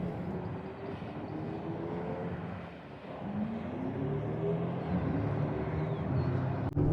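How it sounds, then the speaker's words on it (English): Hyundai electric cars with artificial engine noise rumble past at moderate distance at Sonoma, their low drone swelling and fading over a few seconds, with a sharp click near the end. "when these cars pass by, some of them are making noise"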